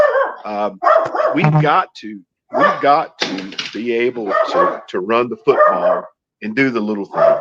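A dog barks in short sharp bursts close by, mixed in with someone talking steadily over them.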